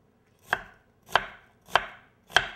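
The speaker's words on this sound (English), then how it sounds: "We're going to cut it in half, turn it over, cut it in half this way." A knife cuts through an onion on a cutting board in four distinct, evenly spaced chops, each a crisp close thud and slice with quiet between them.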